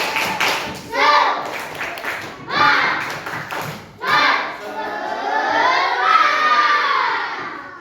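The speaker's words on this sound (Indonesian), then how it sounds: "Kita tepuk semangat sekali lagi, oke?" Classroom children chant and clap together in a rhythmic spirit clap, with bursts of shouted voices and clapping in repeated phrases, then a longer sustained chorus of young voices.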